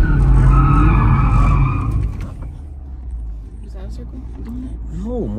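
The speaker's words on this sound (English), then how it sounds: "You hit donut point as every time the car starts to do a donut, stop." A manual car doing a donut, its tires skidding and squealing loudly near the start before fading into a lower engine rumble and faint background noise.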